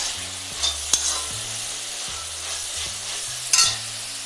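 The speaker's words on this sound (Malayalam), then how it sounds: "സവാള പകുതി വഴന്നിട്ടുണ്ട്." Half-softened onions sauté in a pan with a bright sizzle while a spoon stirs and scrapes them in a few distinct strokes.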